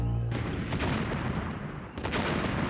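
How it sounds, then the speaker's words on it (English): Barrels explode in the Donkey Kong Country video game: a few heavy booming blasts sound in quick succession, loud and near, each with a short rumbling tail and no voices. "It almost sounds like someone is stupidly and needlessly exploding barrels."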